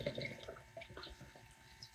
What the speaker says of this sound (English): And that is just a beautiful pour right there.